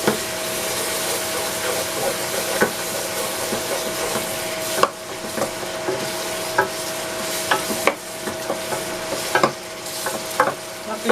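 Tomatoes frying in a pan, a steady sizzle running throughout with repeated stirring scrapes and clinks, close and moderately loud, no talking.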